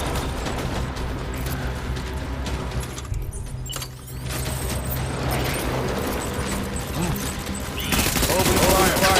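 Rapid gunfire in the video game Death Stranding, a dense fusillade of overlapping shots and mechanical clatter that runs continuously. It dips briefly, then returns louder near the end.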